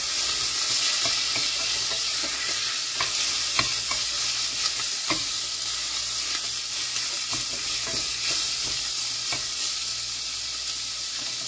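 A chunky chowder cooking in a pot, a dense, steady sizzle with frequent light stirring scrapes and clicks running through it.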